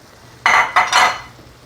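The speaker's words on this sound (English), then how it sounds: "And give that a nice stir." A spoon scrapes and clinks against a pot twice in quick succession while boiled lentils and kale are stirred, short bright bursts over a quiet kitchen background.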